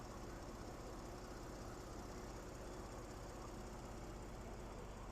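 A car's factory original exhaust idles steadily at close range, a continuous low rumble with no pauses and no voices.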